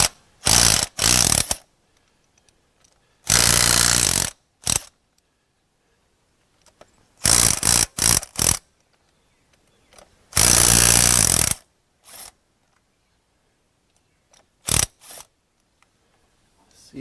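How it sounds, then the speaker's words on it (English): A ratchet on extensions removes motor mount bolts on a 2007–2014 Ford Edge. Loud, close powered bursts of varying length repeat several times, separated by near silence. "we're going to employ some extensions on some other ratchets and get down here and get these bolts"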